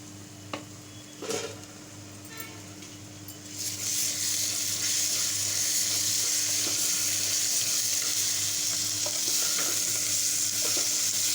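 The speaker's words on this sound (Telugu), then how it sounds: "అల్లం వెల్లుల్లి పేస్ట్ వేగిందండి" Ginger garlic paste frying in a pan while mutton curry is made, with a few quiet stirs before a loud, steady sizzle breaks out and holds continuously close by; no talking.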